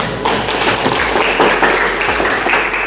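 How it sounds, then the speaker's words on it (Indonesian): A classroom group applauding themselves after poster presentations, a dense, steady patter of many hands clapping at close range for about three seconds with no talking. "Jadi untuk semuanya beri aplaus untuk diri masing-masing."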